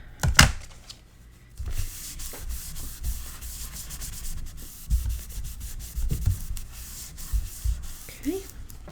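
Paper is burnished onto a Stamperia Atelier des Arts album, with close, repeated rubbing and scraping strokes in irregular bursts, plus a few soft knocks, quiet and without talk.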